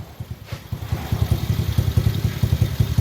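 A 90cc Pantera mini bike engine catches after a kick start and settles into a close, loud, lumpy idle, its rapid even putter of firing pulses running steadily after an initial few uneven thumps.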